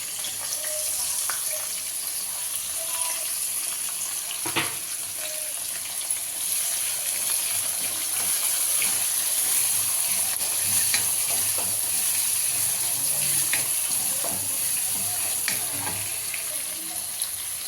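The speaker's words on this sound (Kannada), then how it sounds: "ಇದನ್ನು ಚೆನ್ನಾಗಿ ಕೆಂಪುಗೆ ಫ್ರೈ ಮಾಡ್ಕೋಬೇಕು ಈರುಳ್ಳಿ ಕರಿಬೇವು ಹಾಕೋತಾ ಇದ್ದೀನಿ" Onions and curry leaves frying in a pan, a steady soft sizzle throughout with occasional stirring scrapes and clinks, close and even in level, no talking.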